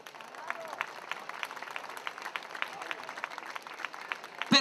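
Faint, evenly spaced claps from a crowd in a town square at the Bella di Marca beauty contest in Conegliano, a steady rhythmic patter over low background murmur.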